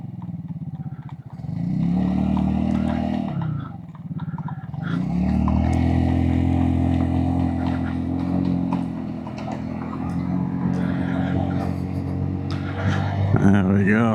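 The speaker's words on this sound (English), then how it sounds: "it's a cracking little scooter" A 2025 Royal Alloy GT125 scooter hums along on the road, its small engine droning and rising in pitch as it speeds up, with a rider talking over the ride and wind noise.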